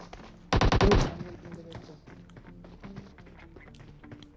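An Mk14 rifle fires in PUBG Mobile as a short, loud, rapid burst of shots near the start, followed by quieter game noises and soft clicks.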